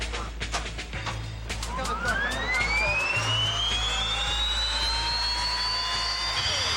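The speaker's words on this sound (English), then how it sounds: "And that's the sound of a Jet Funny car." A jet funny car's jet engine roars loudly and steadily at a drag race, its whine rising in pitch as it spools up, with rapid crackling pulses at the start.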